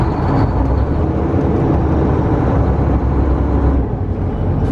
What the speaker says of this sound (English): I'll give it a bit of gas here, a bit of diesel, bit of throttle.